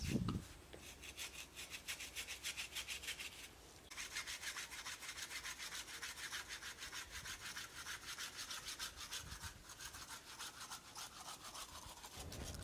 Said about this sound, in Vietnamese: Các bạn chơi cây thì sắm một cái cưa như này rất là tiện các bạn ạ. Cưa này là cưa lách. Cái cưa này là cưa của Nhật.